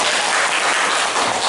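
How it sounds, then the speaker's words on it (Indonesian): Students in a classroom applaud a classmate during an Islamic education lesson, a steady, fairly loud patter of many hands with no talking. "Tepuk tangan untuk temannya."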